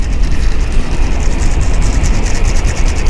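A loud, steady roar of a train rushing past near a windy campsite in Kanagawa, with rhythmic clattering of wheels over rail joints throughout.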